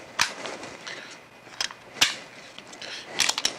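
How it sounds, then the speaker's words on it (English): The slide of a Kel-Tec PF-9 pistol is racked and worked with the slide lock, giving several sharp metallic clacks and clicks spaced irregularly, close up and without talk. "First, you have to rack the slide using the slide lock, pushing it up."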